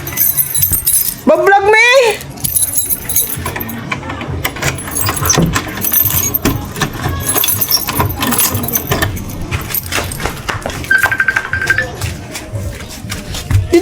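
Keys jangle briefly near the start, a metallic chinking amid a noisy household scene where people talk loudly over background clatter and a passing vehicle.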